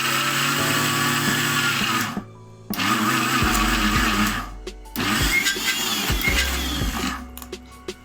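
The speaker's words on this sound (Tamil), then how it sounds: "மிக்சர் ஜாரில் வேர்க்கடலை மட்டுமே போட்டுட்டு ஒரு முறை அரைச்சிக்கணும்" A mixer grinder whirs loudly as it grinds peanuts for homemade Nutella, in three close bursts separated by short pauses, with the motor winding down between runs.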